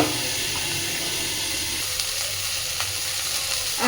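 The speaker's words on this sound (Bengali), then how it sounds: "আলু আর কপিটাকে সুন্দরভাবে ভেজে নেব" Potato and cauliflower pieces fry in a pan with a steady, moderate sizzle and hiss, broken by a few soft clicks of stirring or a lid, with no voices.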